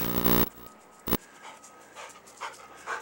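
A dog pants close by in quick, breathy puffs. A loud burst of noise opens the clip, then the steady rhythmic panting continues.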